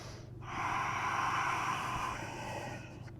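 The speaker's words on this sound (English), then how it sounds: "3 breaths. Breathing for 3." A long, deep breath drawn during a yoga downward dog pose in a sweaty Vinyasa class, a loud airy rush rising and then fading over about three seconds against a low steady background hum.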